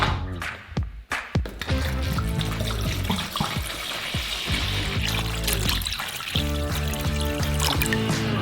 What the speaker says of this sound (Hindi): कटोरे में पानी डालते हैं